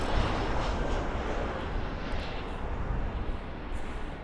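Jet airliner at Los Angeles International Airport, including a Delta 767-300, producing a loud, steady broadband engine roar that holds evenly throughout with no voices.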